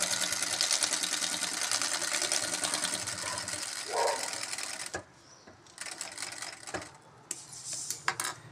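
A sewing machine stitching a jute bag, a rapid, close mechanical chatter running steadily for several seconds, then stopping and giving way to sparse clicks and handling noises.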